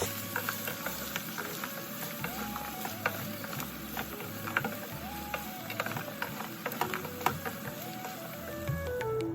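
Chicken stirred and tossed in a hot frying pan, a continuous sizzle with scraping spatula strokes and a faint rhythmic mechanical hum underneath.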